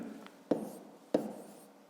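Two short scratchy pen strokes on paper during a fifth-grade maths exercise, each a quick faint scrape, spaced about half a second apart.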